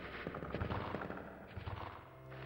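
Rapid gunfire from Resident Evil 2 on the Nintendo 64, with a quick series of close, punchy shots spread across a couple of seconds that land over steady game ambience.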